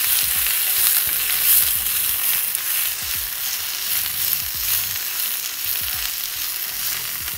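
Vegetables and leafy greens sizzle and fry steadily in a hot pan with sesame oil, a continuous bright crackle with occasional stirring clatter, close and loud with no talking.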